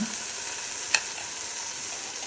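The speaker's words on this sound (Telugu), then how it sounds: "మళ్ళీ కొంచెం సేపు వేయించుకోవాలి" Masala paste for chicken pulao fries and gets stirred in a pan, a steady close hiss of sizzling with a single sharp scrape of the spoon partway through.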